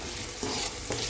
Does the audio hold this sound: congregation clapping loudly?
no